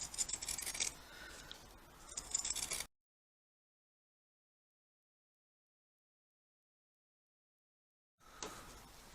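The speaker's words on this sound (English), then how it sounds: "Use your pinking shears." Pinking shears snip through fabric for a bucket hat, a few close, crisp rasping cuts in quick bursts, then a long silent gap before another short run of cutting.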